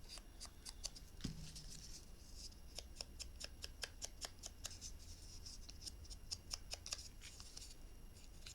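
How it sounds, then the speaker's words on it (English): Scissors snip flower stems for a bouquet: a run of faint, crisp cuts in an irregular rhythm, close by in a quiet room. "I'll just give it another bit of a snip"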